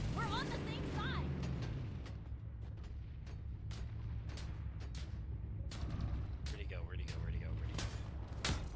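Dense, repeated gunfire and booming blasts fill a multiplayer shooter match, with sharp shots cracking throughout over a constant low rumble while a voice speaks briefly near the start.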